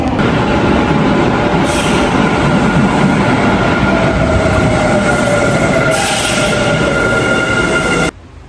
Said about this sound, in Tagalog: nandito na po ako sa Eki ngayon para makasakay tayo ng train pa uwi ng bahay